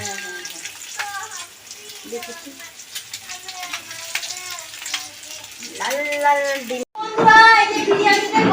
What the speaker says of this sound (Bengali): ডিমটাকে ছাড়িয়ে লাল লাল করে ভেজে নিচ্ছে